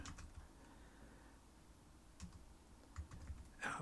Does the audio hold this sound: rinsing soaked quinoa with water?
no